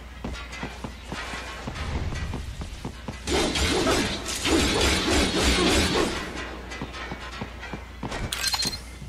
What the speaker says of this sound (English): Come on, stupid glass. Get out of my way!